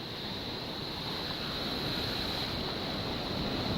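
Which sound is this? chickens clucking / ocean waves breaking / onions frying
ocean waves breaking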